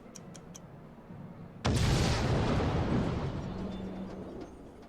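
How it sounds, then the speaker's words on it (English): Explosion in the video game The Great Ace Attorney 2: a sudden loud blast erupts from a quieter ticking background, then a long roaring rumble slowly fades, with no talking over it. "The enormous explosion that ripped through the experimentation stage of the Great Exhibition."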